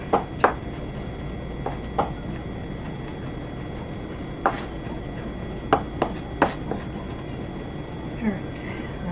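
Garlic chopped on a cutting board with a knife: several sharp, irregular chops stand out close against a soft background hum, with no talking.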